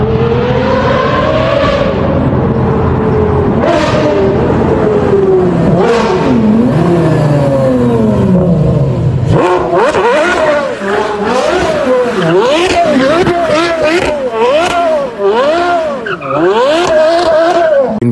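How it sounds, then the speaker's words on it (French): A Porsche Carrera GT with its naturally aspirated 612-horsepower V10 screams through repeated revving climbs and gear changes, loud and close, with tire squeal and a high, wavering wail in the second half. "Son moteur hurle."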